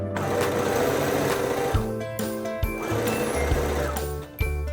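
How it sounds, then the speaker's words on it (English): A serger overlocker finishes the raw ends of fabric, a loud rapid mechanical chatter that runs in several bursts with short pauses and changes in speed, with no voices. "So yeah, I serged mine."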